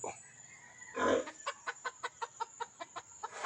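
Rapid, evenly spaced clucks from a chicken, about a dozen sharp agitated calls in a row after a louder burst of noise, close by.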